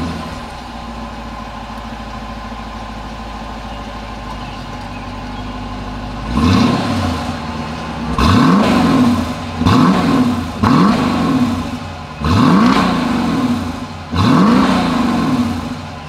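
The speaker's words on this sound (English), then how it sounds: "As always, here is that exhaust clip." A 2020 Dodge Durango idles steadily, then revs hard five or six times in quick succession, each throaty exhaust burst rising and falling back, loud and close.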